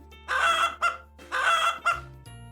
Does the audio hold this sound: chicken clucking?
yes